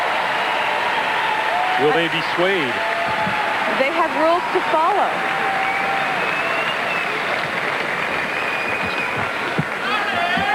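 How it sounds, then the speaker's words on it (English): Loud, sustained applause and cheering from an arena crowd at a 1995 World Championships ice dance event, a continuous roar under two commentators talking over it. "Well, the judges hear the crowd."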